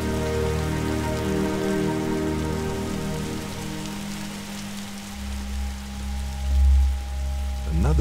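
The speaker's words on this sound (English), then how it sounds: "Is that rain?" Steady rain patters on surfaces in a first-person tech-noir mystery game, a continuous even hiss with a low hum beneath and a brief rumble near the end, no voices.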